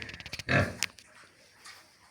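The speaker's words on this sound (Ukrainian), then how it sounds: "Тут є ціньки, хрюшки." Pigs on a household farm grunt nearby: a few quick snorts, then one louder, rougher grunt, followed by softer snuffling.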